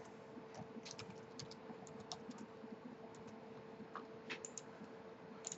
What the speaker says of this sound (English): Type in my password, which is super long